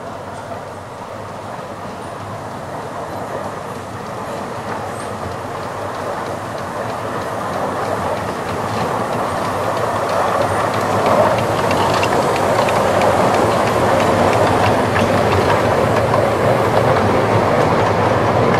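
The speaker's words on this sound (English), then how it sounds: "The little train's on its way back now." A small train at Rudyard Lake, Staffordshire, rumbles steadily with a rhythmic clickety-clack of wheels, growing gradually louder as it draws nearer.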